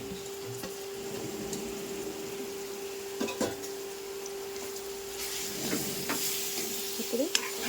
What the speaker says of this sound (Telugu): ఇప్పుడు ఈ మామిడికాయ తురుము కూడా ఈ ఆయిల్లో బాగా వేగిపోవాలి